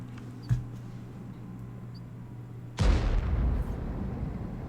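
An artillery gun fires in a tank video game: a faint thump early on, then a sharp, loud blast that trails off into a rumbling roar, with no speech.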